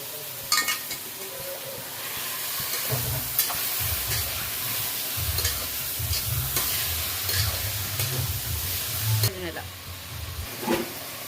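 Chopped bottle gourd fries in a pan for sambar, giving a soft, continuous sizzle with intermittent scraping stirs and occasional clinks of a spoon against the pan, fairly close but at a modest level.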